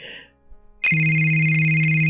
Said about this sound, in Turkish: Bu ne be nasıl bir telefon çalması bu?